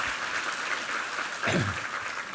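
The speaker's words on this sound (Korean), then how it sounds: "우리 하나님께 감사와 영광의 박수 올려드리겠습니다." A church congregation claps together during a Sunday worship service, a dense, even wash of applause throughout, with a brief low voice or rumble partway through.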